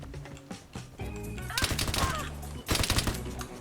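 Rapid bursts of FG42 automatic fire in a World War II shooter video game, loud and close with sharp cracking shots clustered in two volleys amid other game noise.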